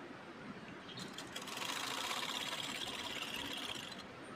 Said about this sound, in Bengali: সাইড দিয়ে কিন্তু সেলাইটা করে নিচ্ছি।